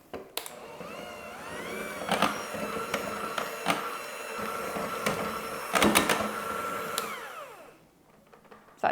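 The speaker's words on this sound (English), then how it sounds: "we're just gonna use our hand mixer to de-lump it" A hand mixer whirs through lumpy pancake batter with a loud, steady motor whine broken by repeated sharp clacks against the bowl. It cuts off near the end.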